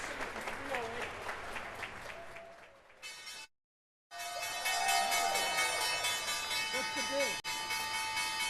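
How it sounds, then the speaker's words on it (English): A crowd on a stock exchange floor applauds the closing bell, a busy patter of clapping mixed with talk, briefly cut off and then followed by a louder stretch of sustained sound. "they are clapping for the closing bell"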